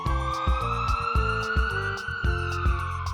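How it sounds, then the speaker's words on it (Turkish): A siren wails steadily and loudly, its tone sliding slightly, with rhythmic low thumping pulses underneath throughout. "Bu bir ambulans. Ambulans."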